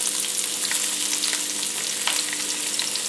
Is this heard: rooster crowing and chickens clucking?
no